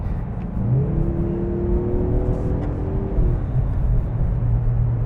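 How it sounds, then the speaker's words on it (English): A 2026 Mazda CX-30 Turbo engine revs steadily under throttle, its low droning pitch rising and holding for several seconds, close and continuous. "you can hear the throttle just going"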